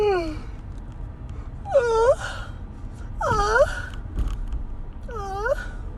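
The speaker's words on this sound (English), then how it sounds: "that's a yawn" A man gives a series of long, drawn-out yawning moans, three or four rising-and-falling vocal sighs spaced a second or so apart, close and fairly loud.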